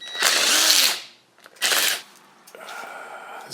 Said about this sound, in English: So now, I believe we can take these 2 bolts out right here